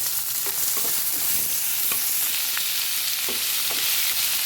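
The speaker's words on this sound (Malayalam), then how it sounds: "ഇനി ഞാൻ അരിഞ്ഞ് വെച്ചിരിക്കുന്ന സവാള ഇടാം. പച്ചമുളക് ഇടാം. ഇഞ്ചി ചെറുതായി അരിഞ്ഞതിടാം. ഇതെല്ലാം നന്നായിട്ടൊന്ന് വഴറ്റാം." Chopped onion, green chili and finely cut ginger sauté in a hot pan, a steady close sizzle with a few soft stirring scrapes throughout and no talking.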